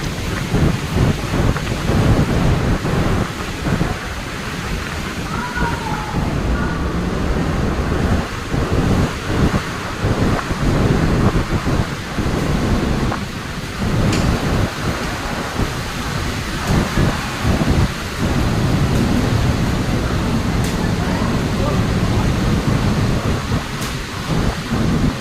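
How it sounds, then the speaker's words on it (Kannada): Strong storm wind roars loudly and steadily for the whole stretch, with buffeting gusts and rumbling bursts that may include rain or thunder, and no one speaks. "ಸಿಕ್ಕಾಪಟ್ಟೆ ಗಾಳಿ ಬಿಟ್ಟಿದೆ."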